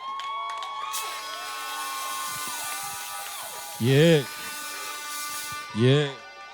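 Two loud, whooping cheers from an audience burst out about two seconds apart over a steady humming tonal background.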